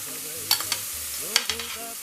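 Chopped onion hits warm oil in a pan and fries with a continuous sizzle, with a couple of sharp clatters from stirring or pieces dropping in, close and fairly loud.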